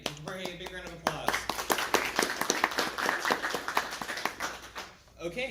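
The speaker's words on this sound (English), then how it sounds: "give Jorge a big round of applause" An audience claps after a short lightning talk at a tech meetup, a dense patter of hands mixed with cheering and talk that swells and then fades out.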